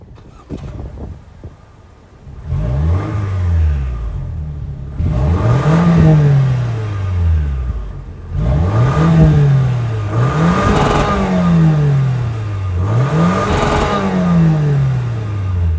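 A 2024 Toyota Grand Highlander's 2.4-liter turbo four-cylinder fires up after a starter click, then revs four times in rising and falling sweeps, loud and close, settling briefly to idle between each blip.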